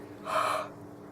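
A single short, breathy exhale onto a rubber stamp during card making, a soft close puff lasting under half a second against quiet room tone.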